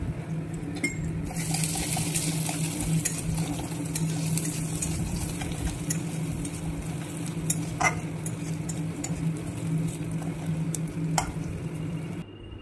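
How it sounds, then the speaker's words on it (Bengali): Spice paste sautéed with a spoonful of sugar in a pan gives a continuous, fairly loud sizzle, with a low steady hum beneath and occasional clicks of the spoon against the pan. "মশলাটাকে ভালো করে কষিয়ে নিচ্ছি"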